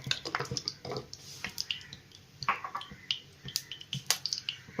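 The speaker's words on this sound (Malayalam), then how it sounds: "കടുക് ഒന്ന് പൊട്ടി വരട്ടല്ലേ" Mustard seeds pop and crackle in hot oil in a pan, sharp scattered clicks and snaps coming in irregular bursts, close by and moderately loud with no voices.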